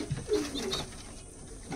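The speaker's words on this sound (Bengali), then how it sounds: "এই হচ্ছে একটা পাঞ্জাবি কবুতর বাচ্চা।" A Punjabi pigeon chick gives a short, soft coo close by, low and brief against light background noise.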